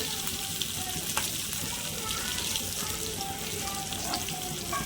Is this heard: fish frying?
yes